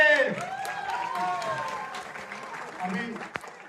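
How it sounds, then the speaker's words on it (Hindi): An audience at a Bhojpuri awards show applauds Pawan Singh, a burst of clapping that fades gradually while a host speaks over it. "जोरदार ताली पवन भैया खातिर।"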